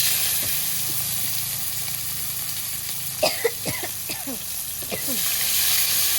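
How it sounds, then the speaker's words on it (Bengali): Crushed garlic sizzles in hot oil with a steady hiss close by, briefly broken near the middle by a few short clinks or stirs. "রসুনগুলো লাল লাল করে ভেজে নিয়েছি"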